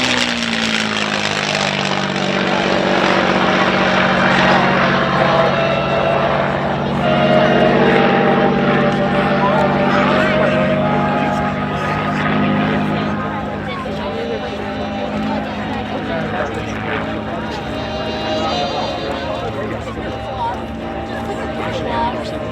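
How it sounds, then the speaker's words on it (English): A B-29 bomber taxis up close at an air show, its piston propeller engines rumbling loudly and steadily, the roar swelling and easing as it pulls in, with a commentator talking over it. "Pulling up here directly in front of us at show center, that is the B-29 Flying Fortress."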